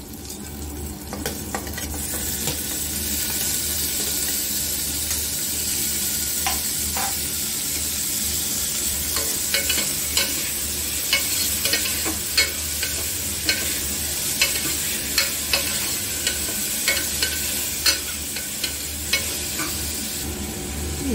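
Onions and green chilies frying with tomatoes for broad bean (avarakkai) sambar, a steady close sizzle with scraping stirs and frequent sharp spatula clicks against the pan throughout, no talking.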